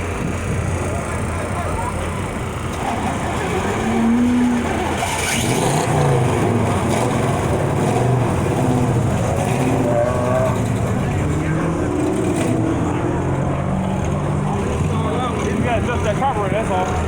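Car engine with a faulty carburetor revving and idling high at a car show, a steady loud rumble running under nearby casual talk and crowd noise throughout.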